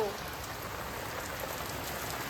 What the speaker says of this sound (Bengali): এই দেখো বৃষ্টি পড়ছে কিরকম দেখো